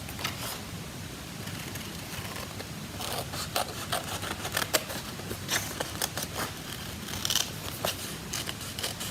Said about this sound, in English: Okay, and then trim around the edge,